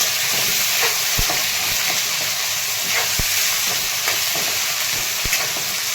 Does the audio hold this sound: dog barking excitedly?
no